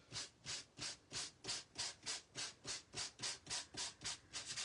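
Sanding block rubbed back and forth over an embossed two-tone surface, a steady rhythm of about fourteen even, close scratchy strokes with brief pauses between them and no talking.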